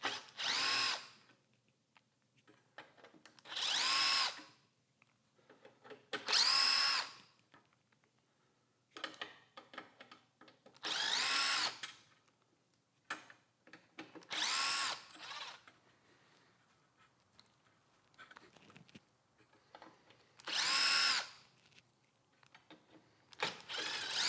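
Cordless power driver backing out Phillips head bolts from the headlight of a 2014-2024 Harley-Davidson Road King: about six short, whirring bursts separated by quiet pauses and small clicks of handling.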